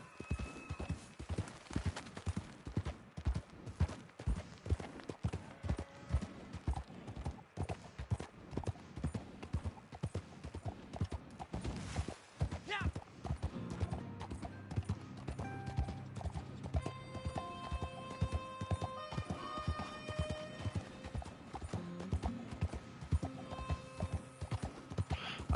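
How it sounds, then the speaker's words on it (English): Horse hooves clip-clopping steadily in the video game Red Dead Online, a continuous rhythmic patter of hoofbeats that runs close and clear, with a brief pause midway and some jingling tack and background game sounds later. "I didn't get to hear the rest of his line because of the horseman noise"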